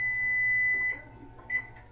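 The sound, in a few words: timer beeping while baking bread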